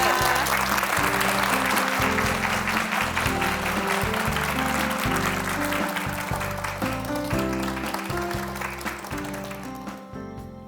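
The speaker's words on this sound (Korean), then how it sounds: "박수 박수 주세요" Loud, sustained applause from an audience at a KBS broadcast lecture, a dense wash of clapping that holds steady before thinning out and fading in the final second.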